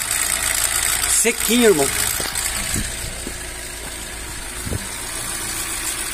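A 2010 Kia Picanto engine runs at a steady idle under a man's speech, with a brief rev swell early on before settling back to a low, even hum.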